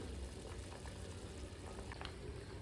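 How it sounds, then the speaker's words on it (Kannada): Cauliflower boils in a pot of water, a soft, steady low bubbling and rumble with faint pops, quiet and continuous throughout. "ನೋಡಿ, ಕುದಿ ಬಂದಿದೆ. ಈ ಥರ ಕುದಿಬೇಕು."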